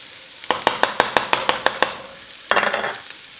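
Garlic hits a hot pan with onions and poblano pepper and is stirred around, giving a string of about nine regular clacks of a spoon on the pan followed by a louder rush of sizzling.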